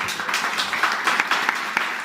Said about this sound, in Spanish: Démosle un aplauso a Dios por la vida de ellas.